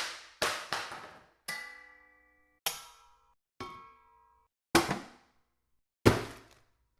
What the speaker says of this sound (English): It's a bunch of Foley sounds.